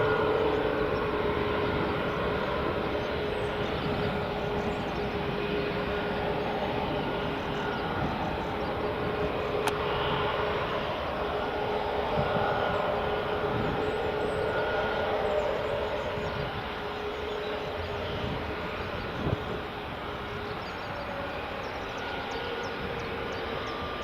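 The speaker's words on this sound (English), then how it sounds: "EasyJet A320neo just taxiing along there now." An EasyJet Airbus A320neo taxiing at Edinburgh Airport in the early morning, giving a steady, continuous jet engine rumble and whine that holds constant throughout at moderate distance.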